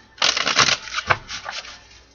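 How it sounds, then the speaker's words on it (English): A deck of tarot cards is shuffled close up in quick, crisp riffling bursts that fade briefly, then pick up again for a second, softer pass. "One more shuffle."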